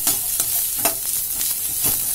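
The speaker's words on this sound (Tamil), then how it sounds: "இது மூணுத்தையும் போட்டு சாட்டே பண்ணிக்கலாம். நல்லா சாட்டே பண்ணிக்கோங்க" Carrot and capsicum sautéing in a pan give a steady bright sizzle with rhythmic soft scrapes of a spatula stirring, close and continuous.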